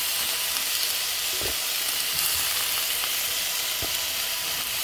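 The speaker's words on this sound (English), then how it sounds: "Saute the onions and the garlic and the mushrooms down." Onions, garlic and mushrooms sauté in a hot pan while making white lemon linguine, a constant loud sizzle with a few faint stirring knocks and no talking.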